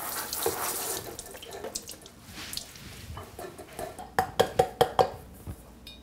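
A kitchen tap runs into the sink while a clean kitchen towel is dampened. The close water hiss comes with a few sharp clinks near the end, and there is no talk.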